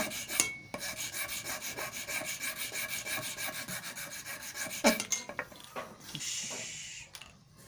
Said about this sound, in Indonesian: batu untuk kita mengasah barang atau pisau